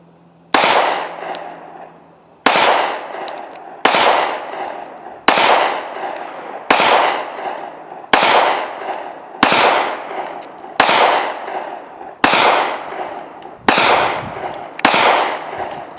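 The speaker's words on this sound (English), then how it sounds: "So now we're going to shoot the 12-rounder" Eleven sharp, loud Sig Sauer P365 pistol shots fired one at a time from a 12-round magazine, each crack ringing out and decaying, spaced about a second and a half apart at a steady rhythm.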